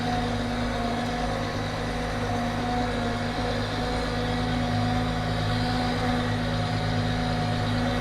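Blue tractor pulling a roller across a freshly seeded, fertilized field, its engine holding a steady, loud drone with a constant low hum throughout and no voices.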